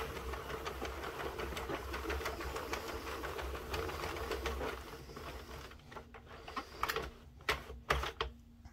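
A Sentro 48-pin knitting machine cranked to knit a baby bonnet gives a steady mechanical rattle of ticking pin clicks for about five seconds, then slows to a few sparse, louder clacks separated by pauses.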